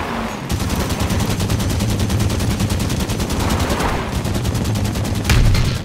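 Sustained rapid automatic weapon fire from a firefight in the video game Halo 5: Guardians, a dense continuous rattle of shots with a brief pause near the four-second mark and a louder burst toward the end.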